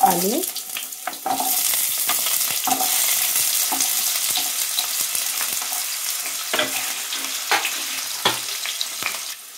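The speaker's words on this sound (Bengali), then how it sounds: "এবার আমি আলুগুলোকে ভেজে নেব" Potato pieces fry in hot oil with a steady, dense sizzle, broken by occasional scrapes and stirs from a utensil in the pan.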